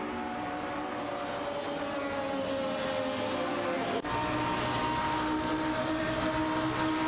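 Race cars in an AI-driven racing video game roar continuously at steady high volume, a dense engine drone with a brief dip midway before the sound carries on.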